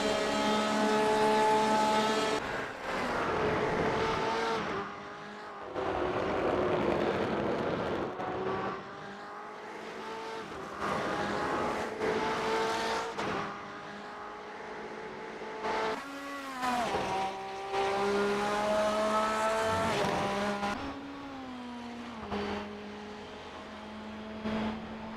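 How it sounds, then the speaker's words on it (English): Porsche RSR race car engine roaring in iRacing, loud and close with harmonic revs rising and dropping through gear changes, brief lifts and bursts of acceleration across the run, no talk. "The RSR has a very distinctive sound."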